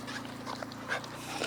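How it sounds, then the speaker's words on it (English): A dog on a road near a car gives faint, soft whimpers and small yips over a low idling rumble, with no clear voices. "whose dog is in the middle of the road?"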